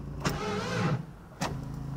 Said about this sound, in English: The only problem is the engine doesn't turn on.